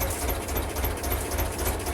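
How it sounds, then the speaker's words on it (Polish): An old tractor engine running while the tractor drives, a loud, close, steady chugging rumble with a rough mechanical rattle and no voices. "Wesoły ciągnik jedzie, co?"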